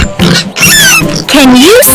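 A farm pig gives loud, close squealing grunts and snorts in a short burst, with a rising squeal at the end.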